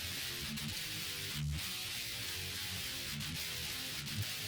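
Distorted electric guitar played through an amp with no cabinet impulse response, giving a harsh, fizzy, buzzing tone over rhythmic low chugging notes at a steady, moderate level.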